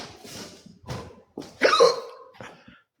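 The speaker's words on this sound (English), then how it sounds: "I got the hiccup" A man hiccups several times in a row, short sharp gulping catches spaced under a second apart, close and fairly quiet, with breathy sounds between them and no words.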